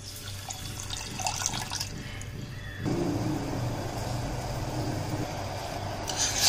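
Water is poured into sugar in a pan to make syrup for rosh bora, a steady splashing stream that grows fuller midway and runs continuously with no talking.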